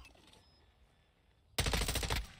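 Video game gunfire in Modern Warfare 2 breaks out suddenly after a quiet stretch. A loud, rapid automatic burst lasts about a second before cutting off.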